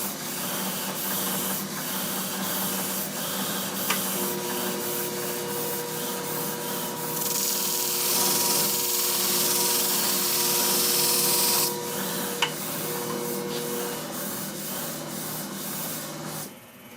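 Thinning shears sharpened on a pink stone: continuous scraping and rubbing strokes, close and steady, with a brighter hissing stretch in the middle, no voices.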